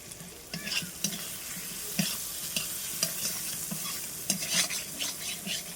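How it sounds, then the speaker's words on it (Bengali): Mango pieces in spice paste fry and sizzle in a pan while being stirred, with repeated close scraping and clinking strokes of a spoon against the pan over a soft frying hiss. "এবারে আমগুলো আমি ভালোভাবে নেড়ে চেড়ে কষিয়ে নেব"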